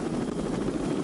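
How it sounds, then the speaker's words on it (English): A CH-53E helicopter in flight gives a steady, loud rotor and engine roar with a continuous low throb that holds evenly throughout, with no talk. "slung under the belly of a CH-53E helicopter"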